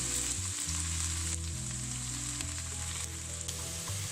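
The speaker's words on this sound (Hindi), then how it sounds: "अब इसमें साथ डालूंगी प्याज। इसको 8 से 10 मिनट तक हम करेंगे फ्राई।" Onions fry in a pan for bhindi masala, an even, continuous sizzle with faint crackles, accompanied by low, steady tonal background sounds.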